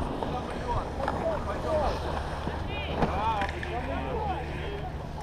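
Wind blowing outdoors on open ice, a steady rushing roar with gusty buffeting on the microphone, while voices talk and call out over it.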